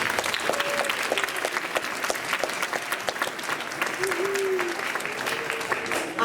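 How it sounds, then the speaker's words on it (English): Dense audience applause for the young musicians and teachers at a Suzuki music concert, with steady clapping throughout and a little background talk. "We can give all of them a round of applause."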